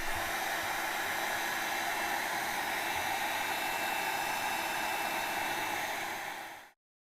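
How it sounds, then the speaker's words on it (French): A heat gun used as a paint stripper blows a steady, loud hiss of hot air onto a motorcycle wheel hub for several seconds before switching off abruptly near the end, with no talking. "Là, vous pouvez utiliser comme ici un décapeur de peinture."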